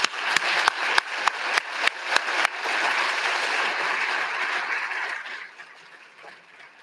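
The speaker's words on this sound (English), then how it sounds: "Please give them another hand of applause." A crowd at a medical school convocation and white coat pinning ceremony claps in bursts, sharp applause rising into sustained clapping that slowly fades out.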